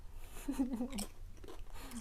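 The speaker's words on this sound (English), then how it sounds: "I just had another hot and spicy and it was actually crunchy" Crunchy Calbee hot and spicy potato chips being bitten and chewed close to the mic, a brief cluster of crisp crunches lasting about a second, alone with no talk.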